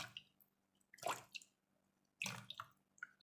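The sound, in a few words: water poured into soap fillers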